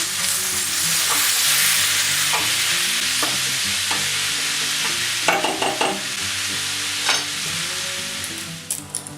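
Chili seasoned with ground mustard and chili powder being stirred in a hot pan for a chili cheese dog: continuous sizzling with repeated scraping spoon strokes, louder clattering toward the end.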